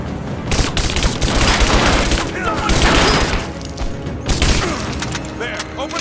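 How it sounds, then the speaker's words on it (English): Gunfire in the video game Rise of the Tomb Raider, a dense loud fusillade of overlapping rapid shots and booming thuds, coming in bursts over several seconds with voices shouting amid it. "I'm under fire!"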